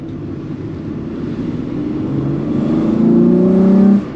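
The V6 engine of a Chevrolet Cavalier builds from a low hum to a louder rising rev as the car accelerates, heard from inside with no talk, then cuts back near the end.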